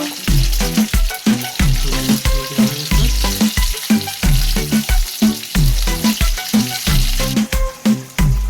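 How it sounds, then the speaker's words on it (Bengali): Loitta fish frying in hot oil for patur, a loud continuous crackling sizzle with dense spitting pops throughout, no voices over it. "তেল গরম হয়ে গেছে এবার লোটে মাছটা"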